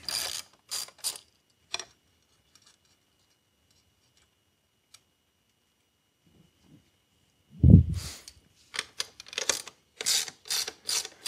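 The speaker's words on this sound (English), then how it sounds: "We're going to take an 11-millimeter socket" Ratchet with an 11 mm socket loosening a clamp on a MagnaTherm heat exchanger shroud: a few close clicking bursts, then a long quiet stretch, and a heavy clunk followed by fast, loud ratcheting clicks.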